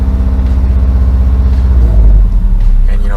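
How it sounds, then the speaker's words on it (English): A Subaru Impreza with a loud exhaust and unequal length headers idles steadily and close by, giving a deep continuous rumble with a harsh uneven burble running throughout. "some of you can kind of hear my exhaust. It's pretty loud."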